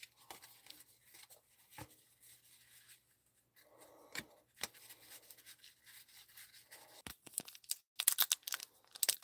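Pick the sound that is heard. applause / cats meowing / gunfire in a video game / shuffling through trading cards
shuffling through trading cards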